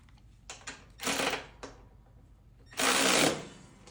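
A power tool drives bolts tight on a Hustler Surfer Pro mower deck, fastening a grass flap: short whirring bursts, a longer run near the middle and a final loud sustained burst, close by with quiet gaps between.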